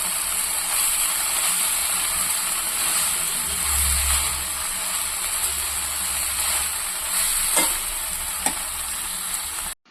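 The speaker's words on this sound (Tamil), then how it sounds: "இந்த கீரை போட்டு நல்லா வதக்கிடலாம்." Ponnanganni greens sautéing with salted tomato in a pan: an even, close sizzle runs throughout, broken by a couple of brief utensil clicks near the end.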